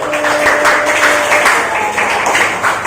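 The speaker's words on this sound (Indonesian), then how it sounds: "Tepuk tangan buat Mas Ari." A classroom of children claps for a student, a dense, steady patter of many small hands held at a fairly loud level for a few seconds, with faint voices underneath.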